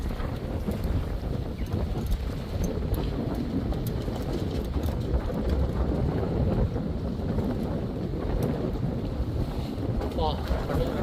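Strong wind roars steadily across the microphone while a yacht sails off Pondicherry, a dense, constant buffeting rush with no break across the whole stretch.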